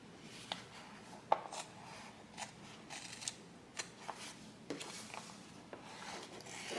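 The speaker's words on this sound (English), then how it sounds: "I'm just going to clip and then cut down the center." Scissors snip several times at an uneven pace, close by, with soft rustling of fabric between the crisp cuts.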